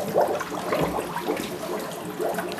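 Dry ice dipped into water in a bathtub gives a steady, close bubbling and churning hiss, with a few louder gurgling surges over about two and a half seconds.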